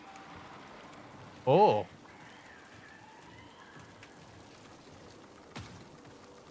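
Steady rain patters down in the Marathon video game, a soft continuous hiss throughout, briefly broken by a short voiced exclamation and a faint thump near the end.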